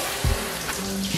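Water jets running in a luxury hotel jacuzzi in El Salvador, a loud, steady rushing wash of water with a couple of low bubbling thumps.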